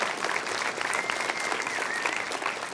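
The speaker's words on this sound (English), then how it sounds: "Let's give her a big round of applause." An audience breaks into a big round of applause for a woman who has just stood up, dense and steady clapping that carries on evenly without pause.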